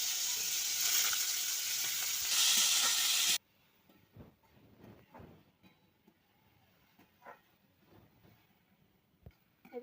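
Pumpkin pieces dropped into hot oil in a wok with boiled garlic and dried red chillies, giving a loud, intense sizzle for about three seconds that cuts off abruptly into quiet stirring clinks and soft crackles.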